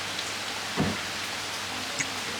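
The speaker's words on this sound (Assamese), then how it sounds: "বৰষুণ ইমানেই নন ষ্টপ দি আছে" Heavy rain falls in a constant close hiss, with a brief low thump partway through and a faint tap near the end.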